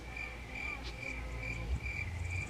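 Crickets chirp in a steady, continuous pulsing trill at moderate volume, used as a comedic silence sound effect, with no talking.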